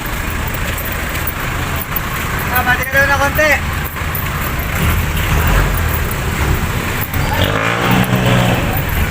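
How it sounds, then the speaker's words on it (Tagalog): Jeepneys bound for Santa Cruz rumble past on a roadside in Barangay San Antonio, Bay, Laguna, with a steady traffic drone, engines swelling and passing close, while someone talks over the noise. "Yan yung mga biyaheng Santa Cruz na jeep"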